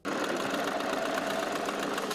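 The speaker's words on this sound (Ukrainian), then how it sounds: "на фізматі не на хвилину не замовкають швейні машинки" Several sewing machines running nonstop in a university physics and maths workshop where students and staff sew garments for soldiers, a dense steady mechanical whir and rattle that starts abruptly and stays loud, with no voices.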